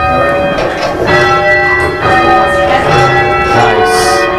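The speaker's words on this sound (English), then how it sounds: "But you are a bell ringer." The church tower bell of the Hingham Memorial Bell Tower rings loudly and close, struck in a steady rhythm with long overlapping metallic resonance and no talk.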